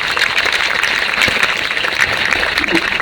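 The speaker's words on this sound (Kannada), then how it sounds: "ಚಪ್ಪಾಳೆ ಹೊಡೀರಿ ಅಂತ." An audience claps at a talk on girls' education, with a continuous, fairly loud wash of applause throughout and no voices on top.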